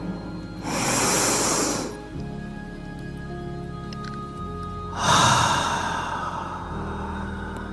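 Two deep, breathy inhales during a guided breathing meditation, each lasting about a second and a half, close and fairly loud, separated by a low steady room hum with no talking.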